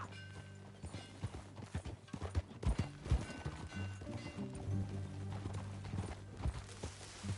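Horse hooves clip-clop at an uneven pace over a low musical drone, with a brief whinny and some soft rustling mixed in, in the video game Red Dead Redemption 2.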